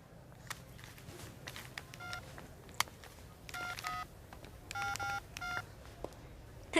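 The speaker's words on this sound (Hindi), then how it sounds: "क्या मैं आपका फ़ोन यूज़ कर सकती हूँ?" A telephone keypad is dialed with bursts of clear DTMF tones, several short beeps in irregular groups, over a faint background murmur.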